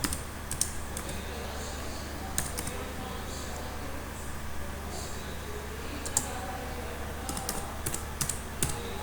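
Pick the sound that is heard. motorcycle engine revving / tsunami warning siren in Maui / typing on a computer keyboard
typing on a computer keyboard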